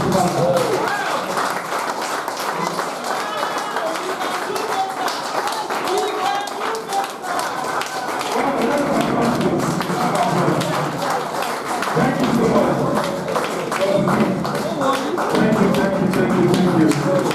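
An audience claps in applause at a live event, a dense steady patter of many hands that goes on throughout, heard alongside talking.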